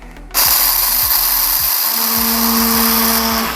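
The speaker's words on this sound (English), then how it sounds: "So let's grind this up." An electric spice grinder whirs loudly as it pulverizes dried spices into powder for puerco pibil, starting abruptly after a brief pause and holding a steady high-pitched mechanical whine with faint rattling throughout.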